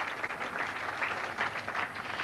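A crowd applauding at Richlands Bowl during the 1991 Goldpin Classic tenpin bowling final, steady dense clapping from many hands held for a couple of seconds with no talk over it.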